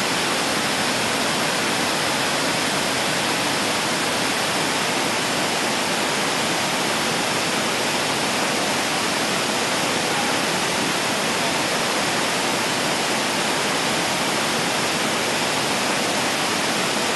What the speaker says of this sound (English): waterfall right in the middle of the rainforest near the border of Brazil